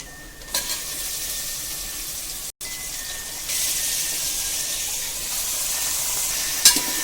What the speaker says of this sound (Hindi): अब इसमें हम गोश्त को डाल देंगे।